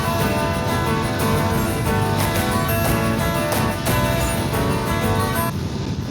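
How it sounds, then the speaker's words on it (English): A Voge DS900X adventure motorcycle pulls away under a light touch of the throttle, its engine note rising and staying loud and steady throughout, heard up close with wind and road noise mixed in. "Just a light touch on that throttle and it does really go"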